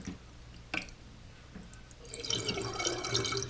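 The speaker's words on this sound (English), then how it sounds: "Hear that? This stack shouldn't be moving so much, and there shouldn't be water coming down." Water leaking and trickling inside a toilet tank as the flush stack is moved, a soft close splashing and running water rising after a couple of knocks.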